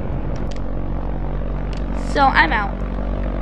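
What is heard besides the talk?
airplane engine in a video game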